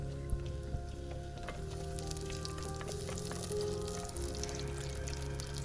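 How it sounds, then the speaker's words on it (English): Chopped onions dropped into hot oil with star anise and cinnamon sticks, giving a close, steady crackling sizzle with faint pops and a low background hum throughout. "When the oil is hot, add a couple of star anise and cinnamon sticks if you have, and add the chopped onions."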